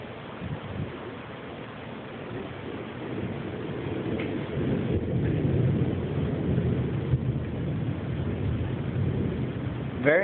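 Thunder from a nighttime lightning storm rolls as a low, sustained rumble that swells and lingers throughout, with no clear voices.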